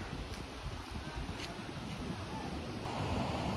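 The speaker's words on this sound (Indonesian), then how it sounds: "Ini penampakan di area Pantai Kuta, areanya beach walk." Ocean waves wash onto Kuta Beach in Bali along the beach walk, a steady, fairly faint surf hiss that swells slightly toward the end.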